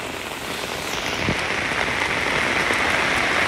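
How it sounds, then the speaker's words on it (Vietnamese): Heavy rain pours steadily at a cemetery, a dense, even hiss of drops hitting surfaces close by, with no voices. "Có mưa mà con tắm mưa kìa."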